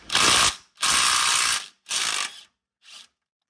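Three suspension bolts on a G-body car spun out with an impact wrench: four quick bursts of rattling ratchet-like hammering, the first two long, then a shorter one and a brief final tap, close and loud.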